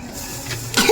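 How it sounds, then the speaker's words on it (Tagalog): A person coughs once near the end, a short close burst during casual cooking of sinigang outdoors on a spearfishing boodle fight day, following quiet background. "Inuubo."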